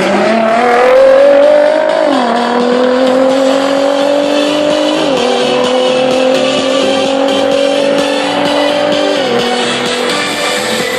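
A 2014 Nissan GT-R with a 3.8-litre turbo engine of about 500 horsepower accelerates hard and loud, its engine note rising and dropping through several quick gear shifts.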